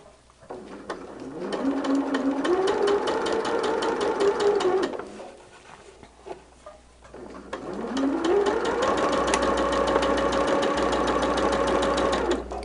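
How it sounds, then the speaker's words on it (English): A sewing machine stitches a shamrock quilt block in two long runs, a steady close mechanical whir that rises in speed, pauses briefly, then starts again. "we're going to sew over that, so I'm not going to bother to back stitch on the end"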